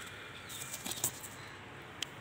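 A slim-bodied Malwai pigeon beats its wings as it is let go, giving a few soft, brief flutters near the one-second mark and one more quick flap near the end against a quiet outdoor background.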